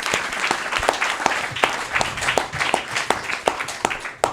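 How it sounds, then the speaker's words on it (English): Film festival audience claps for director Gianluca, a lively, fairly close burst of applause with individual hand claps distinct and a steady pulsing rhythm throughout. "Please give a round of applause to Gianluca."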